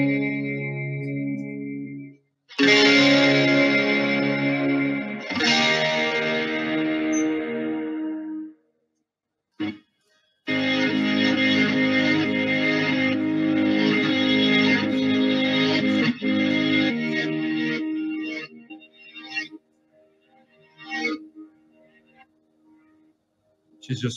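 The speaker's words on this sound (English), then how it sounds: "Is just basically that timeline in a reverse delay mode" Electric guitar run through a Strymon Timeline pedal in reverse delay mode, loud swelling chords with backward-blooming repeats and brief gaps, trailing off into sparse echoing notes.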